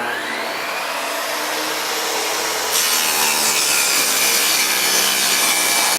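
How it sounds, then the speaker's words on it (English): A table saw cuts a rabbet in a wooden bookcase side panel. It gives one continuous loud whining rasp that grows harsher partway through and stops abruptly after about six seconds. "let's go ahead and cut it up"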